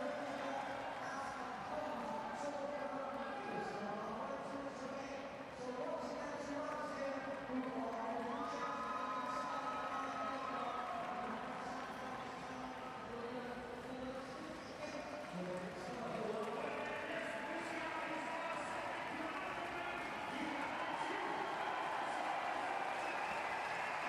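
A crowd at the 2012 London Paralympic track cycling cheers and roars continuously in a large velodrome, a sustained, distant wash of noise under a commentator's voice.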